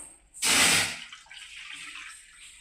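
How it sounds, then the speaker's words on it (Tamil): Water poured from a tap or jug into semolina to make vada batter in a home kitchen, a loud splashing rush for about half a second that settles into a softer trickle and gurgle. "தண்ணி ஊற்றிக்கலாம்"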